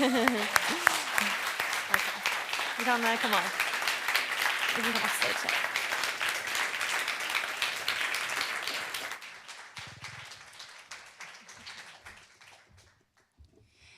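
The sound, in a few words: audience applause for panelists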